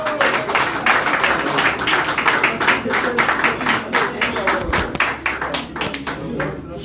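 An audience at a political speech keeps up dense, rhythmic clapping, loud and even throughout, with a voice talking over it.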